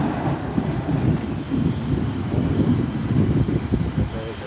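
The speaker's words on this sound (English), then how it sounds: "Here we have a Gulfstream. A Gulfstream G450" Gulfstream G450 business jet on the move at an airport, a steady broad engine roar that stays fairly loud and constant throughout with no talking.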